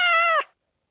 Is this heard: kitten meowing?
yes